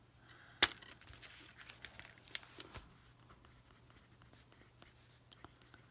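A pen writes on a paper cash envelope, giving faint, close scratching strokes with a few sharper taps, the loudest early on.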